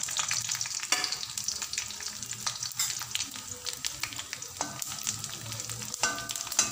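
Dried red chillies, fennel seeds and cumin frying in hot oil in a pan for a tomato gravy give a steady, close crackling sizzle with sharper pops and occasional stirring scrapes, with no voices.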